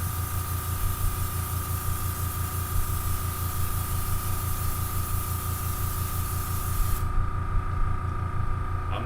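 Clear-coat sealer hisses from an aerosol can onto model scenery trees and buildings in one long, loud, continuous spray that stops abruptly near the end.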